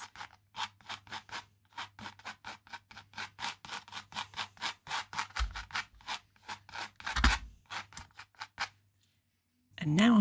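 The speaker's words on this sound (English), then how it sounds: "Work it all into the canvas." Paintbrush scrubbing acrylic paint into canvas for an alpine lake landscape, heard as a steady series of close, rhythmic scratchy strokes, roughly two or three per second, pausing briefly near the end.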